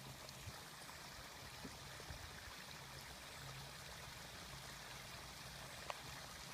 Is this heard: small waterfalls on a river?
yes